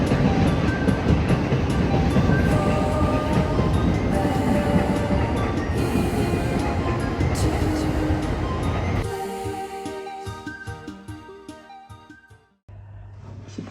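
Metro train in Japan rumbling loudly and steadily near a crowded platform, with faint talk in the background; the roar fades around nine seconds, leaving quieter rattles before a brief low hum.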